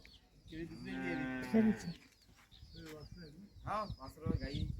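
A Jersey cow moos loudly and drawn-out nearby, followed by more lowing from cows and calves, with people talking in between and birds faint behind.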